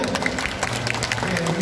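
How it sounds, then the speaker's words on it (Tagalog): Audience applause at a PPCRV parish pastoral council gathering in San Pablo, Laguna: a steady, dense patter of clapping hands filling the room for under two seconds, with murmuring voices mixed in. "O, palakpak ulit."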